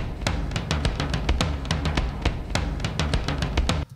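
Drum break, pitched down: a steady, punchy kick and snare groove with busy hi-hats repeating evenly for several bars, loud and alone.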